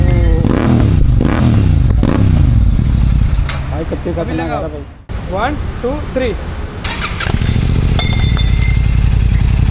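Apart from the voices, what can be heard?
motorcycle exhaust revving without dB killer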